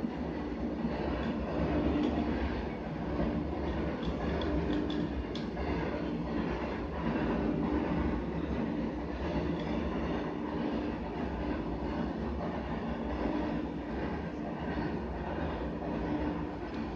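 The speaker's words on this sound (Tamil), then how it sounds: "ட்ரெயின் போகுது." A train passes nearby with a steady, loud rumble and rolling clatter that lasts throughout, with no voices.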